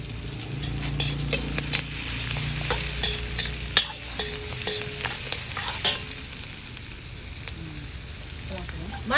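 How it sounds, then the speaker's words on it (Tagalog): Garlic sizzles in a frying pan for ginisang mongo while a utensil stirs it, giving a continuous close hiss broken by scraping and clinking strokes against the pan. "Ngayon, ilalagay natin ang bawang."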